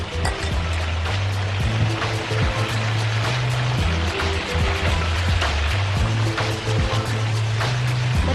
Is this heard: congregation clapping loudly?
no